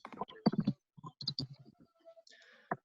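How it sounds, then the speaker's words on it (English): Calculators being keyed by a group of people as they punch in numbers, a quiet scatter of short clicks and taps heard under and between a teacher's talking in a classroom. "I hear lots of clicking"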